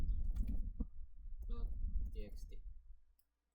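Someone types on a computer keyboard, a run of quick light clicks under a person talking, ending abruptly in silence.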